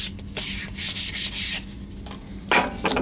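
Wood edges of a book rack are sanded by hand, with several loud, close rubbing strokes in short uneven bursts and a few brief pauses between them.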